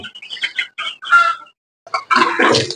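Twelve-day-old broiler chickens on a farm cluck and chatter close up in quick, uneven bursts, with a brief pause before a louder flurry of clucking.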